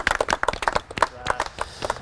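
A small group clapping by a lake at a carp fishing social's trophy presentation, scattered uneven claps at close range, fairly quiet, lasting about two seconds.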